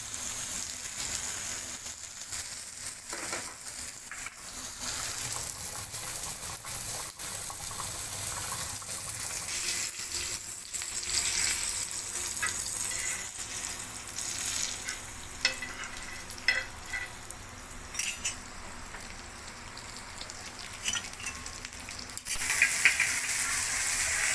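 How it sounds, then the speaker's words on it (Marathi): Nalba fish cooking in a pan for a Koli-style curry gives a continuous sizzle with stirring and some watery bubbling, fairly close and steady, with a few scraping clatters near the end and no talk. "या साईडला आपला सगळा फ्राय होते."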